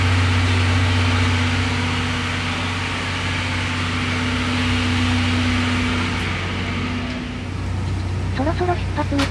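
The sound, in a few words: engine of the Spacia X express train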